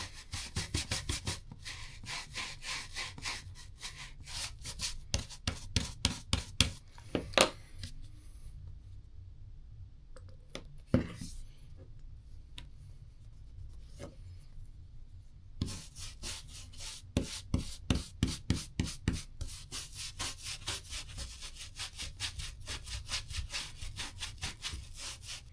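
Conditioner being rubbed by hand into the leather straps of a Birkenstock Arizona sandal, a close, rhythmic series of dry rubbing strokes that pauses briefly midway and then resumes at a steady pace.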